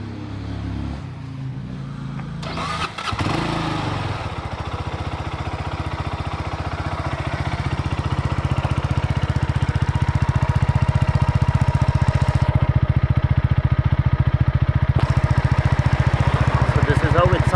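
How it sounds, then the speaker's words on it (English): Benelli TnT25 motorcycle engine idling, a steady low exhaust rumble that grows slightly louder and stays constant throughout, no talk over it. "So now I'll be doing an exhaust note of this bike."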